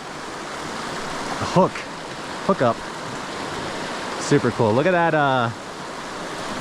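A waterfall on a brook trout stream pours with a steady, close rushing hiss throughout, while someone speaks a few short excited remarks over it.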